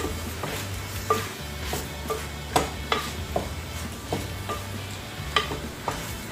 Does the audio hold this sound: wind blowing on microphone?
no